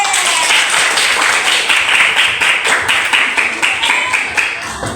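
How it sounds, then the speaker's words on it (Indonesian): A group in a teacher-training session performs the tepuk masyarakat clapping game, loud rhythmic hand claps in a quick patterned beat, with voices mixed in. "Bagaimana tepuk masyarakat,"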